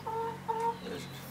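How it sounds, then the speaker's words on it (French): A pet hen clucks close by, two quick tonal clucks in a row followed by a softer third, over a faint steady background hum. "Bonjour mon ami Poule."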